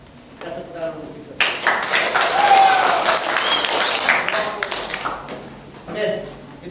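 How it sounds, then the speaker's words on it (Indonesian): A classroom of students breaks into lively applause for a few seconds, with brisk, rapid clapping filling the room, framed by a teacher talking before and after. "Kita tepuk tangan untuk itu."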